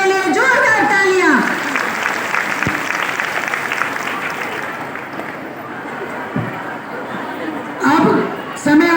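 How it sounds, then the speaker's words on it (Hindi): An audience at a women's conference in Bijnor applauds the district president with sustained clapping and some chatter, after an announcer's voice at the start and again near the end. "एक बार जिलाध्यक्ष के लिए जोरदार तालियां।"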